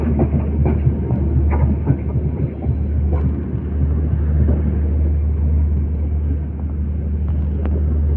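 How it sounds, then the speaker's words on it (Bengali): Panchagarh Express rolling on the rails as it slows near Jaydebpur, heard from on board as a loud, steady low rumble with faint clacks and rattles throughout. "জয়দেবপুরে সেই ট্রেনের স্পিড স্লো হয়ে গেছে"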